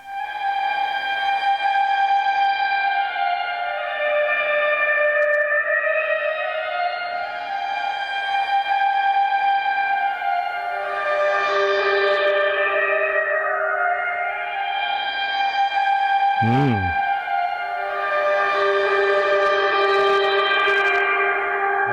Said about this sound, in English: The newly recorded stem through the Model D sounds like this.